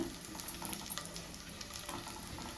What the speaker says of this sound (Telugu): ఇదండి ఫిఫ్టీ పర్సెంట్ వరకు వెల్లుల్లిపాయ వేగాయి